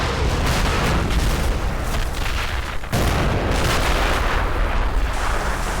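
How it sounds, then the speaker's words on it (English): Artillery booms and gunfire from the World War II strategy game Men of War: Assault Squad 2, an Eastern Front offensive set in 1944, form a loud, dense, continuous barrage with a brief dip near the middle. "Firing begins."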